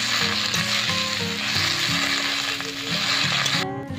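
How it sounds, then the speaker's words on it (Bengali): Jute leaves fry and get stirred in a pan, a dense, loud sizzle running continuously over a low, rhythmic hum. A brief scraping comes at the end. "এবার পাট শাকগুলো খুব ভালো করে নেড়ে নেব।"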